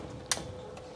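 A small batch of dry macaroni drops into a pan, giving one brief, bright rattling clatter near the start and a fainter tick later, close by over a quiet room background.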